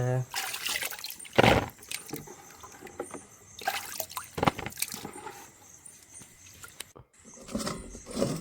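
Water drains off food in a kitchen, in irregular trickles and splashing pours with brief pauses, close by and moderately loud.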